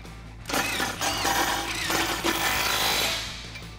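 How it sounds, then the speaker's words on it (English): Socket tool work on the bolts of a RedRock 4x4 HD tire carrier on a Jeep Wrangler JK tailgate, with a spare tire mounted; a 19 mm socket gives continuous, fairly loud whirring and rattling bursts of tightening, with no talk. "Grab a 19 millimeter socket and tighten these down."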